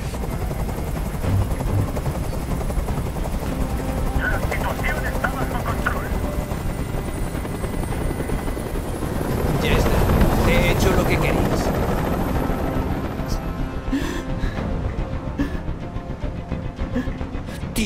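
Steady rotor chop of a helicopter hovering nearby fills a tense hostage standoff scene in the video game Detroit: Become Human, loud and continuous, swelling briefly midway under shouted voices.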